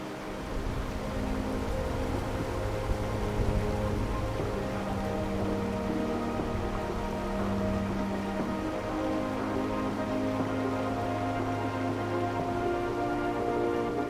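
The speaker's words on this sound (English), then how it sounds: "And you can hear the water down there." Water rushing somewhere below a campsite trail, a steady broad roar that holds evenly throughout, soft and distant with a faint low hum underneath.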